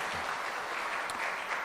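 A church congregation at a Sunday service gives a sustained round of applause to encourage one another, a dense, even clapping that holds steady throughout.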